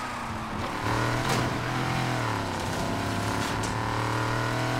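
A Mopar muscle car in Need for Speed Heat revs and drives with a loud, continuous engine drone, its pitch rising and falling as the throttle changes, close up and with no talk over it.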